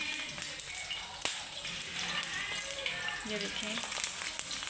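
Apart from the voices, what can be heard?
chicken shami kabab patties frying in oil in a pan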